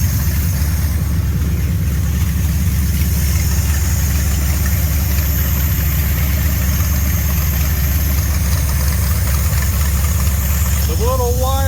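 A 1949 GMC truck's Buick Nailhead V8 idles a little high, a loud close rumble with steady lumpy low pulses running throughout, with a short voice at the very end.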